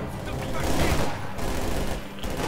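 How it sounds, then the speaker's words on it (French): Suppressive machine-gun fire on a battlefield in Company of Heroes 2: a dense, continuous rattling burst, loud and steady, with a brief dip midway, heard with faint talk beneath. "Et voilà, ça fait un petit tir de suppression"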